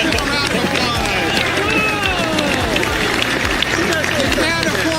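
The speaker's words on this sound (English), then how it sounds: "Come on, give him a round of applause!" A political rally crowd applauding and cheering for a speaker, a loud, dense roar of clapping and voices that stays steady throughout, with shouts rising within the noise.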